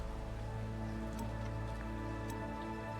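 Steady rain falls as a dense, constant patter with a few brighter drips. A low droning background sits under it, and the level stays even and moderately faint throughout.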